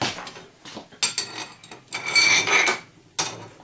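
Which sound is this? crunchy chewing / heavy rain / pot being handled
pot being handled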